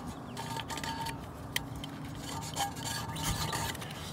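Gunk is scraped off a transmission dipstick, a quiet, close rasping rub repeated in short strokes, with a few light metallic ticks and clinks.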